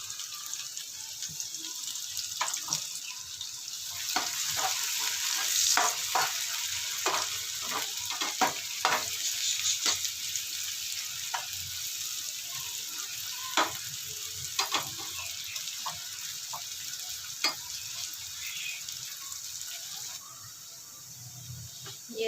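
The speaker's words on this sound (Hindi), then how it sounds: "तो हम लोगों ने प्याज लिए और इस तरह चॉप कर लिए, हम लोगों ने बारीक काट लिए। अब इसको हम लोग इसमें फ्राई कर लेते हैं।" Finely chopped onions fry in hot oil, a constant close sizzle broken by frequent clicks and scrapes of stirring that continue for a long stretch, with no voices.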